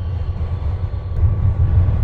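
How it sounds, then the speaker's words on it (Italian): A train pulling into a platform at Roma Termini station in Italy, a loud low rumble building steadily with a faint high whine, no voices. "Treno in arrivo al binario 17."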